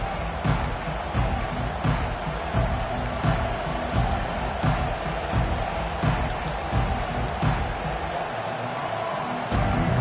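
Dense, steady roar of a stadium crowd at a college football game as the Iowa Hawkeyes kick off, loud and sustained throughout with sharp accents and swells, faint talk underneath.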